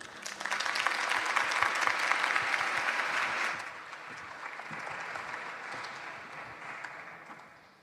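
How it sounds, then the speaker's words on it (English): Warm applause from an audience at an evening session as two speakers step onto the stage: loud, full clapping that drops to a softer level midway and then gradually fades out. "So please join me welcoming Fotis Vasilopoulos and Dimitris Galanis on stage with a warm applause."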